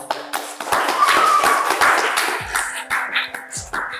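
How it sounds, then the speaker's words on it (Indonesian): A small audience at a school student council show claps by hand, a burst of close, individually audible claps that thins into scattered claps, with a faint voice in the background. "Tepuk tangan."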